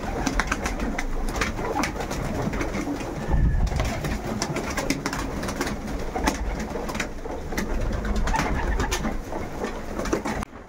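Pigeons cooing inside a dim loft after vaccination, a dense, continuous chorus of low coos and rustling wings, close and fairly loud throughout with feeding sounds mixed in.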